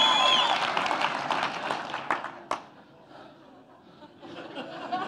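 Audience laughter and brief applause from a crowd at an Ignite talk, a burst of chuckling and a couple of sharp claps that fade, then laughter rising again near the end.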